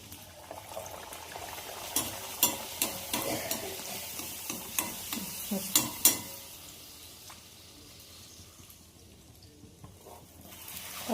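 Bhatura frying in hot oil, a soft bubbling sizzle with a run of distinct splattering pops and stirring clicks in the first half that then settles into a quieter steady fry.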